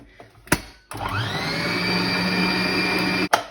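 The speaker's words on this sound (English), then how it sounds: "then mix that for a couple of minutes to get the chocolate sponge for the cake" An electric hand mixer whirs into a steady high-pitched drone while mixing chocolate sponge cake batter, with a short click before it starts and a sharp stop near the end, close and loud, no talking.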